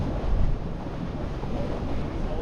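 A sailboat moves fast through the water in strong wind, giving a steady close rush of wind buffeting and water noise with no distinct events.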